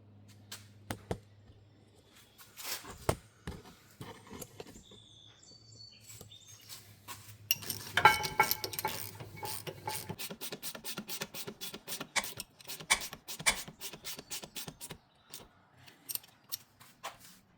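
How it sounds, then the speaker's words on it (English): While a rear brake caliper is reinstalled on a 2016 Honda Pilot, scattered metallic clinks and taps give way to a steady run of quick ratchet clicks, close and fairly quiet in an otherwise still space. "Reinstalling our brake caliper."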